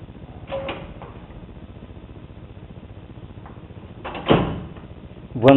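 The paper drawer of a Rank Xerox 813 photocopier, a 106 kg machine, gives a few short sliding clunks and knocks, spaced apart over a low steady room hum.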